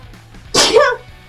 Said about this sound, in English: sorry, I sneezed on you.